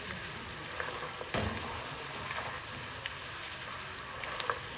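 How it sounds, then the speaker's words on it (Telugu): Peanuts fry in hot oil with a soft, continuous sizzle and light crackling, fairly faint and close, with a few sharper pops and a clink. "సో పీనట్స్ అయితే ఫ్రై అవుతున్నాయి"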